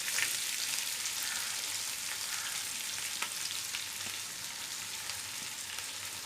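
Onion for a hilsa fish bhorta fries in a pan, a steady dense hiss of sizzling oil with faint occasional stirring scrapes, close and unbroken throughout.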